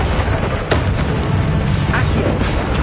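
A Confringo blasting spell goes off in the Hogwarts Legacy video game, a dense, booming burst layered with crackling mechanical sounds that stays loud and sustained for about three seconds, with short sharp hits around the middle.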